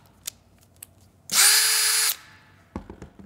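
A cordless drill whirs at high speed for under a second, loud and close, between a few light clicks and taps.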